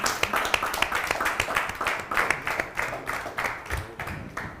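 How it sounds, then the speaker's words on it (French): Studio audience claps to welcome the singer, brisk rhythmic hand claps from a modest group, close and lively with a few sharper individual claps standing out. "On applaudit encore très, très fort pour recevoir notre star"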